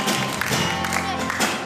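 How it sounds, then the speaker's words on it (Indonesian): A wedding crowd applauds the bride and groom with a continuous wash of many hands clapping, while a voice carries over it. "mari berikan tepuk tangan yang meriah bagi kedua mempelai"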